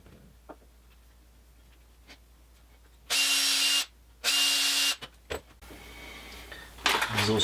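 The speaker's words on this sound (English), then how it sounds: "Drill some little tiny pilot holes." A power drill runs in two short, loud bursts with a pause between them, boring tiny pilot holes for screws while a woodturned peppermill is being assembled, followed by a few light taps and handling clatter.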